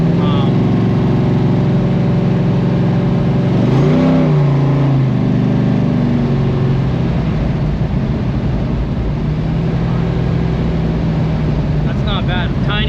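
Chevy S10 engine running steadily on a test drive, a continuous low hum with a brief rev swell near the four-second mark before settling back into a constant drone.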